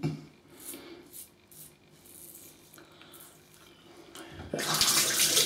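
Tap water runs over a Rockwell 6S safety razor and shaving gear at a sink, starting as soft trickling splashes and then surging into a loud, steady gush near the end.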